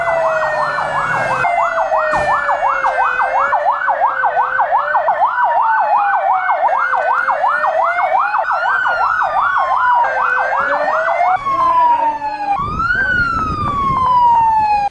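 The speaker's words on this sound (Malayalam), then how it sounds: "ഇവിടങ്ങളിൽ 4 മണിക്ക് തന്നെ അപായ മുന്നറിയിപ്പ് നൽകുന്നതിനായുള്ള സൈറൺ മുഴങ്ങി." A loud electronic warning siren wails continuously during a disaster mock drill in Idukki, rising and falling rapidly in a steady oscillating pattern before shifting to slower sweeping tones, heard close and alone.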